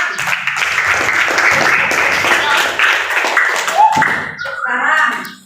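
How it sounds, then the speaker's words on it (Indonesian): A school class applauds together, a busy, fairly loud patter of many hands for about four seconds, then it tapers off as voices take over. "Tepuk tangan."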